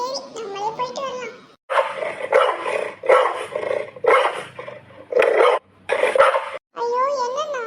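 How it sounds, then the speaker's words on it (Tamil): A cartoon dog barks repeatedly in short, loud bursts, spaced irregularly between pauses and mixed with voices. "ஐயோ என்ன நாய் கத்த சவுண்ட்லாம் கேக்குதே."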